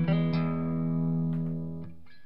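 A sustained electric guitar chord rings out through a reverb effect and decays smoothly, with a lush lingering tail and a few faint string noises near the end.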